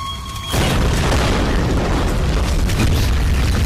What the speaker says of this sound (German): Ich glaube, das explodiert jetzt.